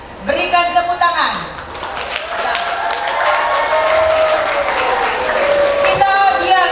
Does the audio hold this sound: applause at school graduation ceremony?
yes